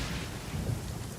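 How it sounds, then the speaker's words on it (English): Steady rain hisses with a low rolling rumble of thunder in the video game Genshin Impact, a continuous dense wash of weather sound with no voices. "The soil is moist. It's even raining."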